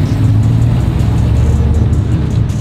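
A sequential burnout truck engine pulls away in first gear, a steady, loud, close mechanical drone with low rumbling throughout and no pauses.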